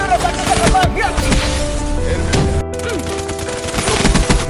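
Gunfire sound effect in a film, a dense loud burst of rapid shots layered with crashing impacts and a busy soundtrack, with a voice faintly mixed in.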